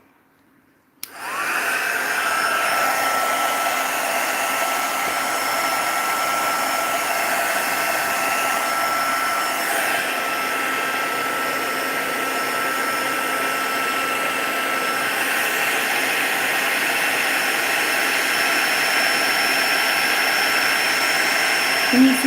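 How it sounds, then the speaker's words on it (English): A heat embossing tool switches on about a second in and blows hot air as a steady, loud, hair-dryer-like whoosh that holds unbroken to the end. "So I'm about to turn on the heat tool."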